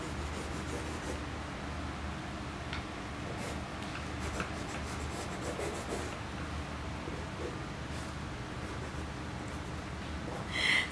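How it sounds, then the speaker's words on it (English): A pencil scratches and rubs across paper while drawing straight road lines for a one-point perspective landscape, soft continuous strokes close by with a few brief louder scrapes. "So I'm drawing the road."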